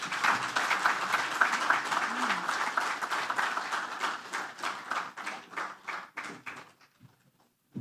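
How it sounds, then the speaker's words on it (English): Audience applause at a bank's breakfast meeting after a speech on trade: a dense crowd of clapping that holds steady and then thins out into scattered claps before fading to near silence. "Please, a louder round of applause."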